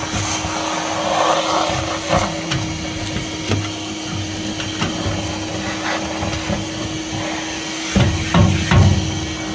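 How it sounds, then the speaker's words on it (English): A vacuum cleaner runs steadily while cleaning out the chamber of a dirty home furnace during a teardown, its constant drone broken by occasional knocks and scraping clatter from the hose against metal. "Now we'll just vacuum it up the rest and get this thing ready for us reassembly for the new one."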